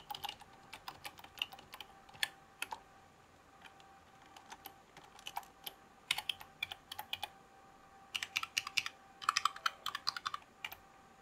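Typing on a Hexgears X1 low-profile mechanical keyboard with brown switches and on a soft keyboard, quiet clustered key taps in short irregular bursts, close and soft with pauses between runs.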